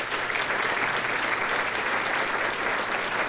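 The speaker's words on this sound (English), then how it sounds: "Please give them a nice round of applause." A breakfast event audience applauds, dense steady clapping filling the room for a few seconds, fairly loud and close, without any voices on top.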